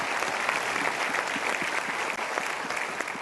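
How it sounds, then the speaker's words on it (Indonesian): Sustained audience applause at a motivational seminar, a dense steady wash of many hands clapping throughout with no speech over it. "Kita berikan tepuk tangan dulu."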